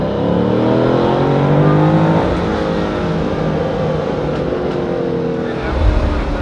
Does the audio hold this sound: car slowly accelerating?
yes